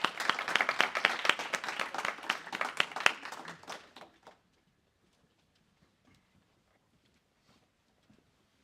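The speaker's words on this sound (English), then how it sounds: "let's welcome the class with an applause" A small class claps for a final project presentation, a few people's quick, close hand claps rattling for about four seconds before cutting off into near silence.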